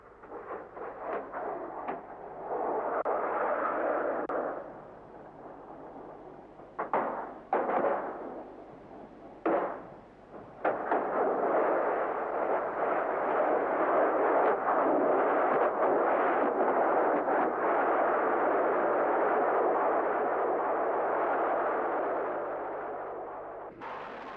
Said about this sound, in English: the results of a hit by a Bill missile are spectacular